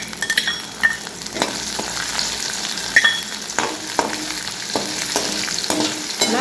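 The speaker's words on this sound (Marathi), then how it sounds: "आता आपण त्याच्यामध्ये लसूण टाकून घेऊया तेलामध्ये" Garlic fries in hot oil while making chivda, a constant close sizzle and crackle broken by occasional stirring clicks and scrapes.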